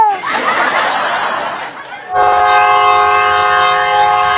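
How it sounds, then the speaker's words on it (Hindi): A train arrives with a sustained, loud multi-tone horn blaring close by after a rumbling approach. "आ गई ट्रेन, आ गई ट्रेन"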